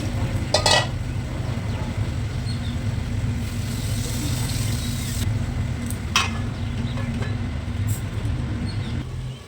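Ridge gourd and mushrooms stir-frying in a pan, a continuous low sizzle and stirring under a steady background hum, broken by a few sharp scrapes and clinks of a utensil against the pan.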